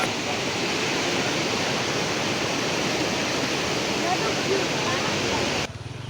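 Strong, fast-flowing river current with a high water level, a steady dense roar of rushing water close by that continues unbroken, dropping slightly in level near the end.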